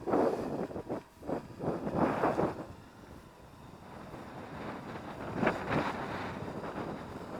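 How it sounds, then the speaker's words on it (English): Strong gusting wind buffets the microphone outdoors during a Yuneec Breeze 4K drone flight, loud rushing surges that rise and fall in waves with no speech. "You're probably hearing this wind"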